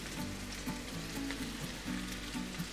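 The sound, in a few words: onions frying in sunflower oil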